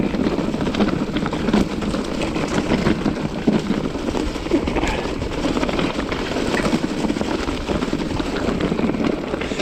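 A motorbike on a country ride in North Wales, its engine note rising steadily as it gains speed, heard close beneath heavy rushing wind buffeting the microphone.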